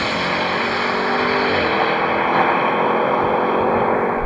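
A BMW M5, Audi RS6 and AMG E63 S accelerate hard side by side in a drag race, a loud steady engine roar with a rising tone that dips briefly as a gear changes, heard at close range.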